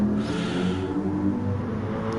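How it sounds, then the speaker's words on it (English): A GT3 race car engine in a racing game drones steadily at a low pitch as it leaves the pit lane at the Nürburgring, with a brighter rising whine early on. "No, that is the sound of Seamus coming out of the pit"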